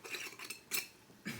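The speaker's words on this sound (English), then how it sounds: "Stir it all up." Chicken and rice soup stirred in a pot on the stove, a metal spoon scraping and clinking against the pot in three short bursts, close and fairly quiet, with no talking.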